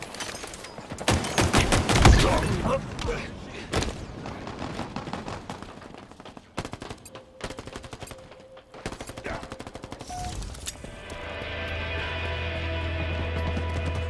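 Rapid automatic gunfire in Halo Infinite multiplayer, dense bursts of shots with loud peaks early on, continuing intermittently over game effects and music, ending in a steady droning hum.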